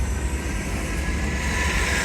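Union Pacific 5532, a slow outbound manifest freight train at 1st Street in Tempe, rolls past with a steady, loud, broad rumble that swells slightly toward the end, with no voices.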